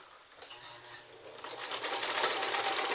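A Nelco zigzag sewing machine stitches fabric in free-motion mode with the feed dropped, its steady mechanical whir building from faint to fairly loud and running continuously without talk.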